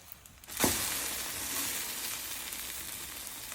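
Stuffed eggs sizzling in a pan on a stovetop, a steady bright hiss that rises sharply with a loud burst of frying, then settles into continuous crackling sizzle with no talk.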